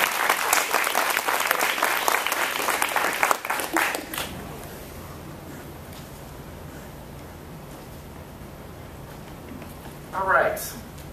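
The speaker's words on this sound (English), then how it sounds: "Round of applause for her." A crowd at an evening awards ceremony applauds for an absent honoree. Dense, steady clapping fills the first four seconds, then stops abruptly, leaving quiet room tone and a brief voice near the end.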